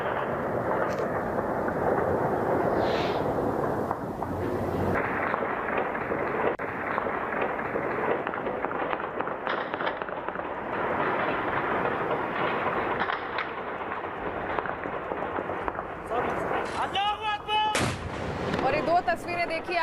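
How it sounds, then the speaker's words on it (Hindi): Taliban fighters fire celebratory shots into the air in Kabul, a long run of rough, repeated gunfire bursts and booms heard at a distance and mixed with other background noise. "काबुल में इसकी जानकारी मिलते ही तालिबानी इलाकों ने हवाई फायरिंग की और जीत का जश्न मनाया"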